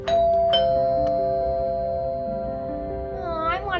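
A doorbell rings out clear tones that ring on and decay, followed by a brief warbling chime near the end.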